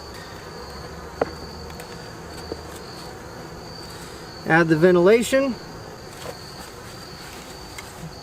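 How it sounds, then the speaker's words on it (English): Steady buzzing of bees at a hive hums throughout, with a louder, close burst of buzzing around the middle; a voice speaks briefly early on. "that just keeps the bees from coming up into the Vivaldi board"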